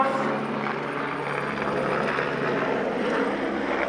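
Eurocopter AS-350 helicopter flying an aerobatic display at an air show, a steady loud rotor and turbine roar sustained throughout with no break.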